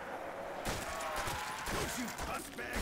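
Rapid bursts of gunfire from Call of Duty custom zombies gameplay sound continuously over a steady game background, dense and fairly loud across the whole stretch.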